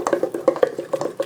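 Rum being mixed into banana bread batter in a bowl, quick rhythmic clinks and wet scraping strokes of a utensil, close and fairly loud, about a dozen beats in a second with no talking.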